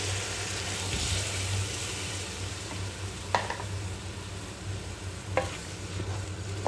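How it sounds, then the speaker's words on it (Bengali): Tomato paste frying in a pan with steady low sizzle and occasional stirring clinks, close and moderately loud, no talk. "এখন আমি টমেটোর পেস্ট অ্যাড করব।"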